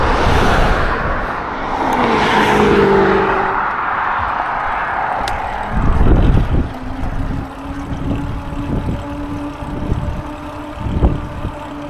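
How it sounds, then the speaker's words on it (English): Vehicles pass on a busy road while a trike is ridden off-road, with a broad whooshing roar that swells and fades, followed by lower engine hum and several thumps, steady and fairly loud with no talking. "Pretty busy road we have here."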